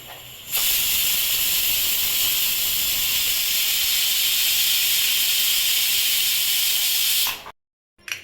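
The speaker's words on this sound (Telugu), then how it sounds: "మూత పెట్టేసుకొని విజిల్స్ ఇప్పిద్దాం" Pressure cooker holding mango dal lets out a loud, steady rush of hissing steam for about seven seconds, close and unbroken, then cuts off abruptly into silence.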